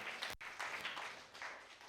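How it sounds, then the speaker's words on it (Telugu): A church congregation claps together in praise, a soft, fairly distant patter of many hands heard in a short burst. "కొట్టు చప్పట్లో దేవునికి స్తోత్రం"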